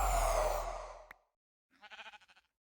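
Sheep bleating in the Minecraft video game: a short series of quavering bleats heard alone, following a loud noisy burst that cuts off.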